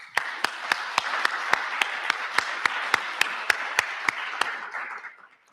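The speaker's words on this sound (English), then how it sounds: "So I think we need an extra loud round of applause for these guys." Applause from the audience at a scholarship prize-giving ceremony: a steady patter of clapping with sharp individual claps standing out at a regular pace, fairly close and alone, fading out at the end.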